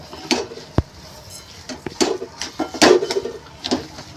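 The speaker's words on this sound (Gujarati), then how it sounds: "થોડી થોડી ઉમેરીને મિક્સ કરતા જવાનું" A spoon stirs a semolina, almond and milk mixture in a pan while sugar goes in, giving close, irregular scrapes and clinks against the metal, with no talk.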